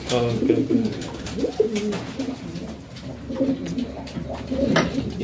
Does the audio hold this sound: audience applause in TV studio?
no